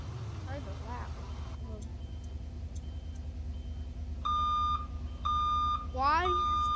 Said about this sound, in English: this beeper is kind of loud